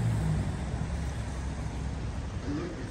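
A Mitsubishi Pajero Shorty drives along, its engine giving a low, steady rumble with broad road and wind noise close by, continuous and fairly loud for the whole stretch.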